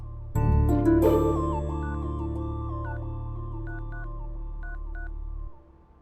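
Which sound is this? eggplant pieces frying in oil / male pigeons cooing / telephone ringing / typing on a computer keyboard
telephone ringing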